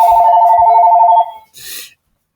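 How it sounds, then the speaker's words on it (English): Phone ringing with a loud, steady electronic tone lasting just over a second, followed by a brief softer burst, in a quiet room. "Now my phone is ringing."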